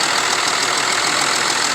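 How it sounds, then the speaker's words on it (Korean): A 2011 Kia Mohave KV300 4WD engine idles steadily and close by, a smooth, even rumble that holds without change throughout, with no voices. "엔진 소리도 차분하니 괜찮네요."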